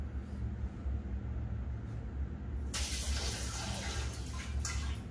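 Water sprays hard and steady from a Grohe shower WC spray head, a loud broadband hiss starting abruptly partway through and holding close over a low background rumble.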